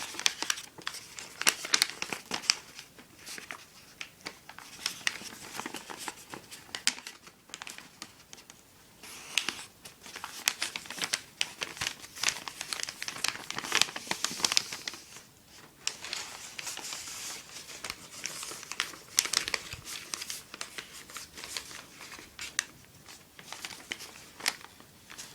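Origami paper for a complex dragon model is folded, pinched and pressed flat up close, giving irregular crinkling and crisp rustling bursts with brief pauses throughout.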